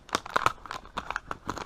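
A plastic zipper bag holding Googan fishing baits crinkles and rustles in quick, close bursts as it is handled, with no talking.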